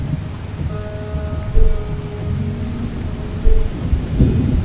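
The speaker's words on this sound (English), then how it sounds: "Jeez, this rain is bucketing down now." Thunderstorm in the video game Beautiful Desolation, with a steady wash of heavy rain rolling underneath and a couple of low thunder rumbles swelling briefly, backed by a faint sustained tonal game soundtrack.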